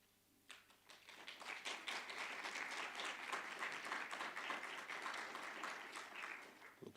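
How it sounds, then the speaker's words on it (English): An audience at an inaugural university lecture bursts into applause, a dense, steady patter of many hands clapping that swells quickly and holds for several seconds in the hall. "Looks like there are going to be a lot of claps tonight."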